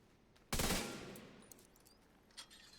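One loud gunshot in The Division 2, fired to break a lock. The single blast decays over about half a second, followed by a couple of faint later pops over a quiet background.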